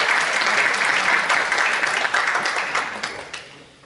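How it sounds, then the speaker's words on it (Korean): An audience claps for an award winner at a national Korean traditional music contest ceremony, loud sustained applause that gradually fades away toward the end. "다시 한번 수상자에게 큰 박수 부탁드리겠습니다."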